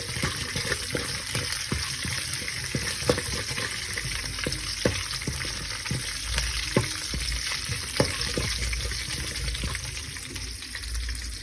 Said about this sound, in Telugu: కొద్దిగా నూనె వేడి చేసుకొని అందులో ఆవాలు శనగపప్పు మినప్పప్పు జీలకర్ర ఇంకా కరివేపాకు వేసుకొని ఫ్రై చేసేసుకొని